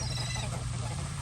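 Birds crowd a lake shore in Sanford, Florida, during a feeding frenzy, a dense, close wash of honking and quacking waterfowl calls with a brief higher call at the start.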